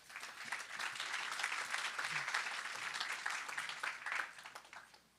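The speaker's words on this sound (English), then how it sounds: "Please give them a warm round of applause." An audience at a supply chain and advanced manufacturing summit applauds to welcome two speakers to the stage, a steady wash of many hands clapping at moderate distance that swells, holds, then tapers off.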